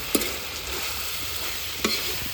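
Meat fries with tomatoes in a pan at a night campsite, giving a steady, soft sizzle with two brief stirring clanks and no talking.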